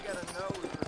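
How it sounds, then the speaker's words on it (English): Horse hooves clip-clopping in the Red Dead Redemption video game, set in New Austin, a quick run of soft, evenly spaced hoofbeats under talking. "Ah, já vamos de cavalo?"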